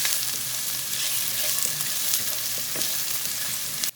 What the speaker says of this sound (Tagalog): Sunod naman, igisa na natin yung sibuyas.